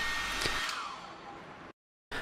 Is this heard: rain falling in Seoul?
no